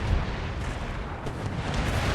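Demi cannons fire in Empire Total War as a steady, dense, distant rumble of massed cannon booms, with no talk over it.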